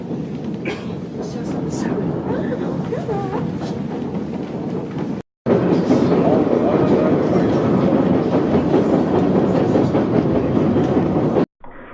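White Pass and Yukon Railroad train rolling along its rails toward Bennett, British Columbia, a continuous loud rumble with faint clicking, heard from on board, briefly cut by two short gaps.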